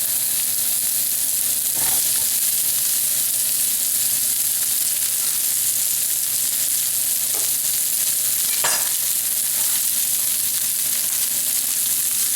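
Zucchini sizzles and fries in a pan after garlic, a steady loud hiss throughout with occasional scrapes of stirring.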